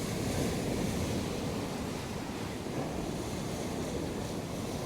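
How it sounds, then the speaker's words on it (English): Waves surge and break onto a shingle-and-sand beach at Clacton-on-Sea in a steady, broadband wash, with wind buffeting the microphone throughout and no voices. "that's a bit of a wave"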